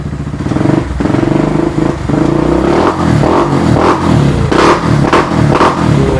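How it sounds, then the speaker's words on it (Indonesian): An old motorcycle engine idles close by with a rattling chug, revved lightly several times in short bursts. "Terus coba kita cek geber tipis-tipis."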